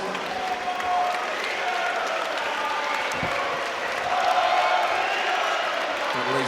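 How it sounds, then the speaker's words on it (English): At a Muay Thai Grand Prix fight, the arena crowd claps and cheers in a steady, wide wash of applause as the announcer's voice carries over it. "a big round of applause, please, for both of these riders."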